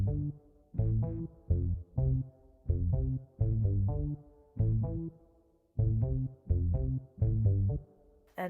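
Hyperpop-style beat with fuzzy distorted bass and processed sub bass, playing in loud rhythmic stabs with short gaps between hits, alone without voices.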